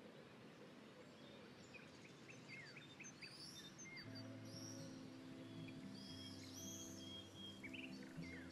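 Birds chirp around Samuel in the game Life is Strange, a cluster of short, high tweets and trills repeating over a quiet outdoor ambience, faint and soft, joined midway by a low sustained tonal music bed.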